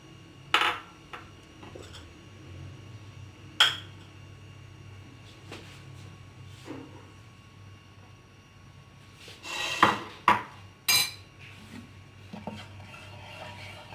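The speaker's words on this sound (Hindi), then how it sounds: "घी शामिल करने के बाद हम उसके अंदर इलायची के दाने शामिल करेंगे।" Cardamom seeds are stirred in ghee in a pan for suji ka halwa, heard as sparse scraping and clinking of a spoon against the pan with quiet pauses between strokes.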